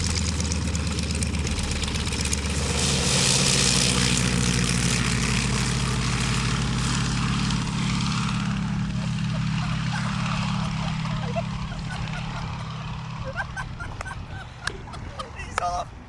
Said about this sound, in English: because obviously with this aerobatic plane, it'll be doing spins, it'll be doing flips